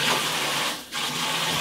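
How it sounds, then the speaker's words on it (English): A kitchen faucet runs with a steady rushing hiss of water that dips briefly midway and then resumes at full flow. "You hear my faucet running?"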